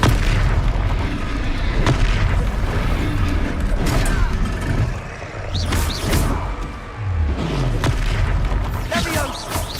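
The Confringo blasting spell goes off in the Hogwarts Legacy video game, a dense, loud battle mix of booming explosions and bursts that keeps going without a break, with voices shouting in between.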